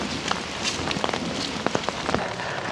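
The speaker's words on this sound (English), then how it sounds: "I know it's raining, but I actually do enjoy rainy days." Steady rain patters on a surface at a forest campsite, with scattered sharper drips and taps standing out against the constant hiss.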